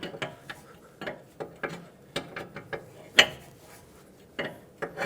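A ratchet tightens a jam nut on the outer tie rod of a 2008-2020 Dodge Grand Caravan, clicking in irregular close bursts with short pauses between strokes, and no one speaking.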